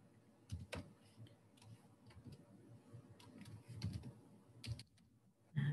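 Typing on a computer keyboard, quiet scattered clicks and short bursts of keystrokes with pauses between them, close and faint, with no talking over them.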